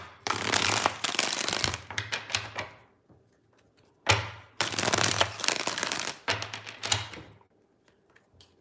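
Cards being shuffled in three bursts of rapid riffling and flicking, close and fairly loud, separated by brief quiet pauses.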